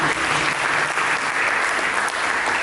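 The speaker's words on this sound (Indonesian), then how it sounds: "Mari kita berikan tepuk tangan bagi Yesus." A church congregation applauds steadily, a dense continuous wash of clapping hands that stays loud and even throughout without a break.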